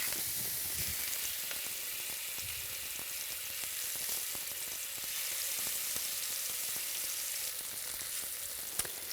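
Fresh tuna sears in a hot pan, giving a steady close sizzle with faint crackles running throughout and no talking.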